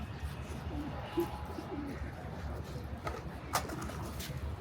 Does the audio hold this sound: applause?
no